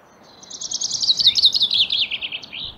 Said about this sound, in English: Not all birds sing a marvelous melody. Marsh tit and Eurasian nuthatch are just two examples.